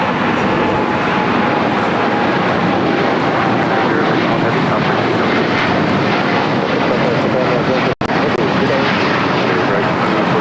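A Boeing 787-8 Dreamliner airliner at LAX, bound for Tokyo Narita, gives a steady, loud jet roar that holds evenly for about ten seconds, with a faint high whine running through it and a brief dropout near the end.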